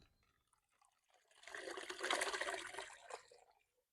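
Water sloshes and gurgles for a couple of seconds as fish fingerlings are lowered in a container into water, then settles back to quiet.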